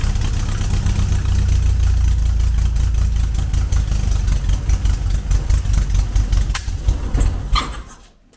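A VW Beetle with an EFI system, started for the first time with some throttle and its timing far out, runs loudly with a rough low rumble and crackling uneven firing, then dies away at the end.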